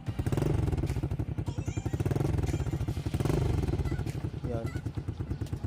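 A motorcycle engine with a quieted exhaust putters in a rapid, pulsing idle, then revs up and settles back, with a fairly subdued exhaust note and a voice briefly underneath.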